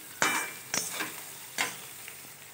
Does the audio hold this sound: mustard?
yes